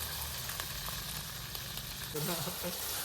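Onions roasting in hot oil for a chicken fry, giving a continuous dense sizzle that fills the background, with a brief stirring clatter near the end.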